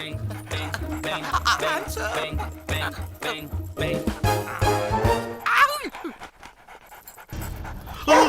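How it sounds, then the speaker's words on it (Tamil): A dog pants rapidly in quick breathy bursts amid busy clattering noise, with a few sharper yelps, and people talking around it. "நாய் நாய்"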